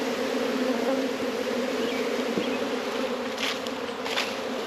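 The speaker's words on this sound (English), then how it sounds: "Remember the bees from this morning?" Honeybees swarm around a hive in a steady, dense, close buzz that holds throughout, with a few louder passes of individual bees near the listener.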